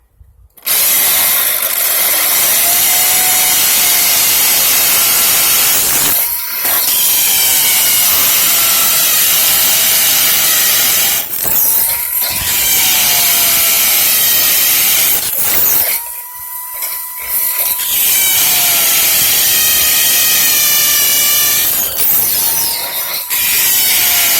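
Hammer drill boring into concrete right beside an old anchor bolt for a pool enclosure, a loud continuous grinding whine with a few brief pauses as the bit is eased in and out.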